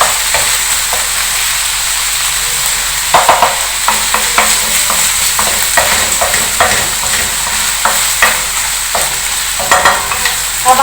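Fish pieces being stirred in a frying pan for fish katakat, a steady sizzle of hot oil with repeated scraping taps of the spoon against the pan, close and fairly loud, no talking.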